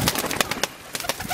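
High-flying racing pigeons coo in soft, throaty bursts close by, several overlapping calls in quick succession.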